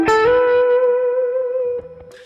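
A major-scale blues lick on electric guitar rings out as one long sustained note with effects, slowly decaying before a few quieter notes at the end.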